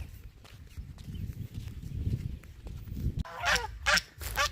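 Soft shuffling and rustling, then several loud geese honk close by in quick bursts near the end.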